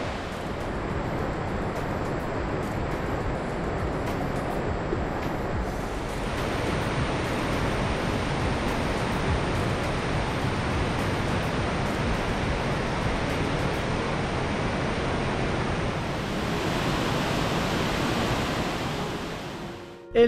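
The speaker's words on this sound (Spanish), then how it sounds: "incluso ya desde acá se escucha la cascada" Cascada de los Tambores waterfall in Los Alerces National Park roars as a steady broadband rush of falling water, constant and full throughout, with no voices.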